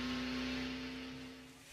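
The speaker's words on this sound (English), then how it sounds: "Car doesn't sound like it's at full song, Benny" A stock race car engine at the 2000 DieHard 500, not running at full power, drones with a steady tonal whine that slowly fades as the car passes into the distance.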